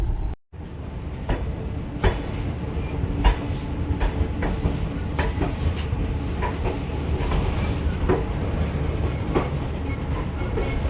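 A Vande Bharat Express rolls along on the run from Mysore toward Palakkad, heard from inside as a steady low rumble with irregular clicks and clacks of wheels over rail joints, continuous and fairly loud with no talking.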